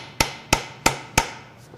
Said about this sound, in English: Use my old chisel driver.